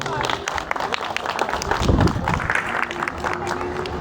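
Applause from an audience at a school medal ceremony, a busy spread of clapping with voices and crowd noise underneath, swelling briefly in the middle.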